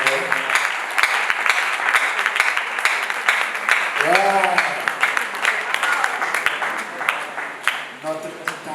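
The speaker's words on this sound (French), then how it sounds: "Acclamons Dieu pour la vie de notre prédicateur." A church congregation in Togo applauds for their preacher with sustained, dense clapping throughout, while a voice rises briefly over the crowd midway.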